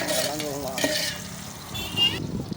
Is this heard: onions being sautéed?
yes